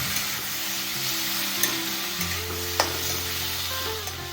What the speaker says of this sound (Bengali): মাছের তেলগুলোকে এই তেলেই দিয়ে দিলাম